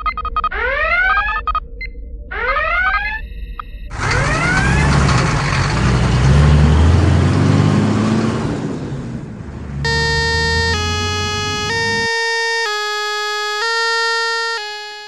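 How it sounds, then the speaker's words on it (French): A fire alarm gives two rising electronic wails, then a loud rumbling engine surge, then a steady series of bright electronic beeps, with no voices. "Soudain, l'alarme retentit à nouveau"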